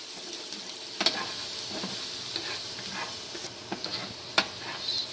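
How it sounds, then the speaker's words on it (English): Finely chopped garlic sautéing in oil in a pan, a steady soft sizzle with scattered pops and occasional spatula scrapes and stirs, close and fairly quiet, with no talk. "I will saute the garlic a little bit"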